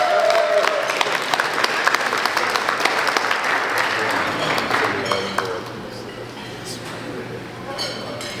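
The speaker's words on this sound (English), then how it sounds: "Let's give Charlie a round of applause." A room full of people at a track team brunch breaks into sustained applause honoring a recognized guest, dense clapping throughout that eases slightly toward the end, with faint clinks of dishes mixed in.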